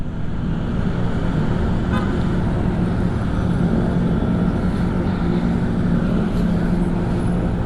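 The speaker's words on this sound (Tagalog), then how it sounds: "Busina agad, na-delay ka lang ng konti." Dense Manila road traffic with a steady engine roar and a few car horn toots cutting through, loud and continuous throughout.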